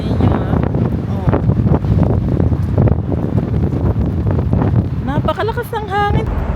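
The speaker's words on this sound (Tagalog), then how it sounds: "Sobrang lakas ng hangin dito sa Ginza." Strong wind buffets the microphone in a constant loud roar in Ginza, Tokyo, with a person talking over it.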